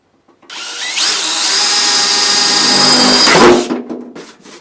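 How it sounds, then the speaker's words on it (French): A power drill bores into the metal body of a Renault Kangoo van, one loud sustained whine of about three seconds that starts abruptly and cuts off sharply, with faint handling noise afterward. "Ensuite tu viens bien positionner ta mèche là au milieu. Tu perces la Kangoo."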